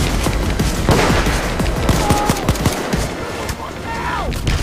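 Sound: sniper gunfire in the video game Payday 2

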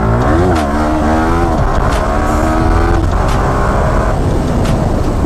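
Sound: Yamaha R15M motorcycle revving

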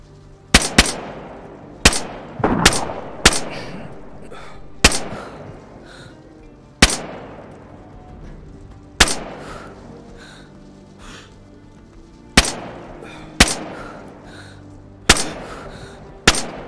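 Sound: sniper rifle gunshots in the video game DayZ

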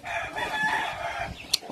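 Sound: roosters being fought, crowing

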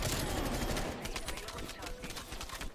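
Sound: Groza rifle gunfire in video game Call of Duty Black Ops Cold War

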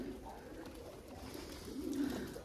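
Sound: pigeons cooing on the rooftop

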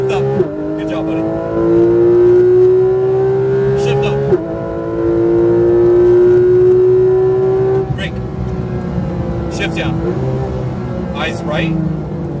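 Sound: Porsche GT3 RS accelerating on track

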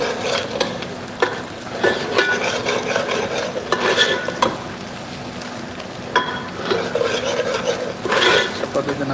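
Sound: chopped onion being added to the pan and stirred for kadhi

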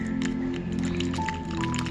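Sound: pouring mixed drink into a carved watermelon shell

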